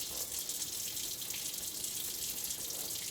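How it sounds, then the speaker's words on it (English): Water pours steadily from a sink faucet left running during handwashing, a constant close splashing rush with no break. "we're gonna leave the faucet run"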